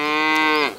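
A single close, loud cow moo on a cattle farm, a steady drawn-out bellow that drops off abruptly at the end, with no talk.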